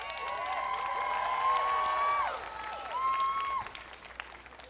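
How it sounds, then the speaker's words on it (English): An audience applauding the 2019 graduating class at a college commencement, with sustained clapping and cheering plus several high whistles and whoops rising over the crowd, fading toward the end. "let us applaud the achievements of this wonderful class of"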